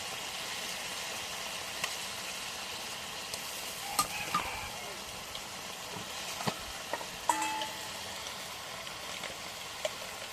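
Goat meat coated in ground ginger, garlic, cumin and garam masala is stirred in a pan, with a soft steady sizzle and scattered scraping and clinking of the spoon, fairly quiet and close.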